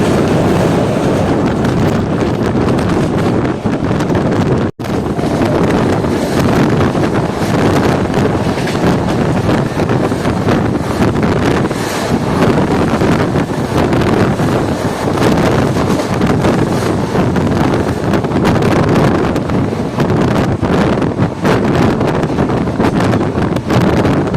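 The Kaviguru Express crosses a bridge over the Brahmani river at about 110 km/h on the third line, a loud, unbroken roar of wheels and rushing wind buffeting the microphone from inside the moving train.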